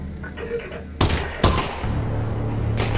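Gunfire in the VR video game Half-Life: Alyx: two sharp, loud, close shot bursts in quick succession, followed by a rumbling continuous background of combat noise.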